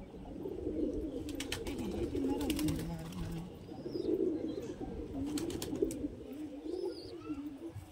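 Madrasi pigeons coo in low, repeated, throaty phrases close by, with a few faint chirps at a distance; a person talks in the background at times.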